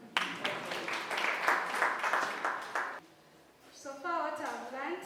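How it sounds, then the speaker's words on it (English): Students at a university mental health session clap for about three seconds with dense, steady clapping. It stops abruptly and a voice speaks afterward. "So clap for me"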